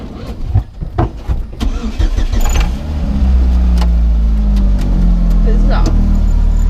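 A Pontiac Fiero, newly fitted with its body, cranks and fires up close by after a few clicks and bumps, then settles into a loud, steady, rumbling idle.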